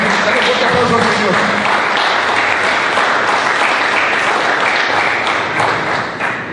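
A church congregation applauds loudly and steadily at an evangelical preaching event, a dense wash of many hands clapping close by that eases slightly near the end.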